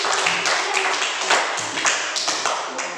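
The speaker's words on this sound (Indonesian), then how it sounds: "Tepuk tangan buat teman kalian yang sudah mengatakan." Classroom applause for a classmate: a dense, steady patter of many hands clapping at once, sustained for a few seconds at moderate loudness with no talking over it.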